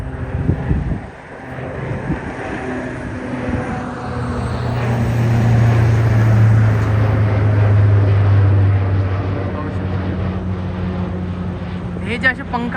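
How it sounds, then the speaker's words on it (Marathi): A chartered propeller plane takes off nearby, a broad droning roar that swells in the middle and holds over wind buffeting the microphone, with voices faintly underneath. "हे चार्टर्ड विमान आहे बघू शकता"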